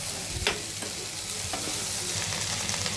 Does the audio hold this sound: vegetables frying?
yes